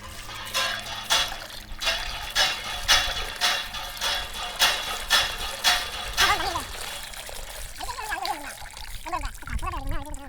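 Water is poured and splashes in bursts while raw chicken meat is washed outdoors in a forest, a series of rhythmic splashes up close, with people talking over the end.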